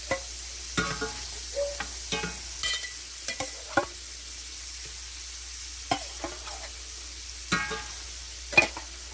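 Alligator fillets laid one by one into a hot pan give a low, steady sizzle. Sharp clicks and scrapes of utensils break through at intervals, near and fairly quiet, with no voices.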